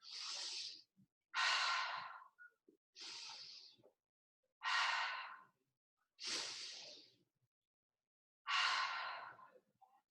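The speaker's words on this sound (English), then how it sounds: "Let's take 3 breaths." Six slow, deep breaths taken while holding a plank pose, loud airy exhales and inhales close to the mic, evenly spaced with silence between them.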